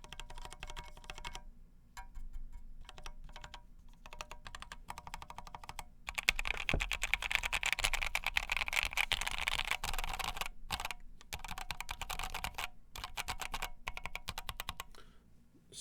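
Typing on a KFA Course60 mechanical keyboard with a POM plate: close, rapid clacking keystrokes in uneven bursts with brief pauses, steady and fairly quiet, with no talk.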